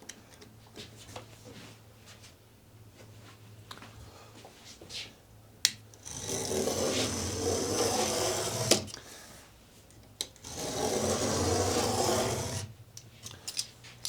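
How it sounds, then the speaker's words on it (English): A razor blade is drawn along a clamped straight edge to score a carbon fiber sheet, two long, steady scraping passes heard close up, each a few seconds long, with faint ticks and handling noises between them. "I'm just going to score it a series of times, and then eventually I'll make my way through."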